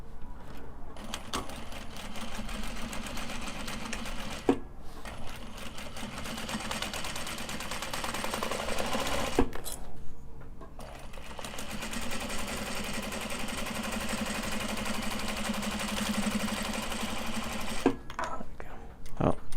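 Sewing machine stitching webbing for traveller slings, running in steady bursts of rapid stitching broken by short pauses, close and fairly loud.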